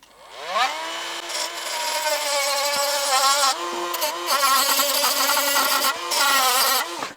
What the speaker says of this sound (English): I'm using my Dremel for this.